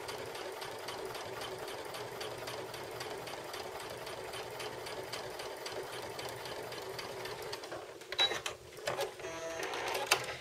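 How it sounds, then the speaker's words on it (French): A sewing machine stitches a flying geese quilt square, its fast, even needle chatter running steadily for about eight seconds before breaking into a few short, uneven bursts near the end. "On va aller coudre le restant du carré."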